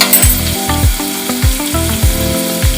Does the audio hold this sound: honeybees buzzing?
no